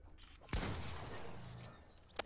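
A single sharp gunshot in Fortnite during a competitive FNCS semi-final match, followed by a fading tail and a faint second crack at the end, quiet and distant.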